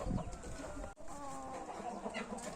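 A champion rooster clucks and churrs close by in a busy farmyard, its calls running continuously over a dense layer of other bird noise for a couple of seconds.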